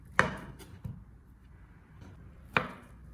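Two sausages being chopped into small pieces on a cutting board: two sharp, close knife thuds about two seconds apart, with a faint tap between them and no talking.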